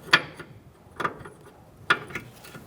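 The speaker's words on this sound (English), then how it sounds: "To do that, we're going to use a 24mm wrench," A 24mm wrench cracks loose the steering rack jam nut on a 2014-2019 Kia Soul, with three sharp metallic clacks spaced about a second apart, close and fairly loud against a quiet background.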